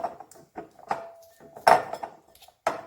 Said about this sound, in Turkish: Katı yağımızı bir çatal yardımıyla eziyorum.